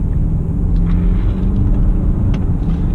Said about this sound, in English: Here's another BMW flying by.